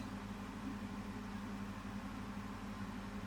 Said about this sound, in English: I'm going to have to put the cooker hood on as I don't have any windows in this kitchen